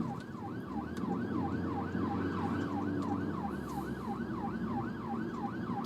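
A UK ambulance siren wails in a steady repeating rise-and-fall pattern over road traffic rumble, fairly distant and continuous, with no talking.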